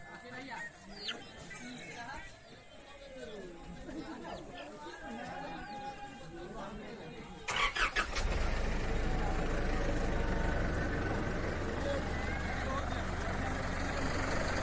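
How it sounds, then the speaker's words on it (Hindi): A vehicle engine cranks and catches partway through, after a stretch of background chatter, then settles into a steady, close rumble that continues to the end. "मेरी गाड़ी स्टार्ट हो गई है"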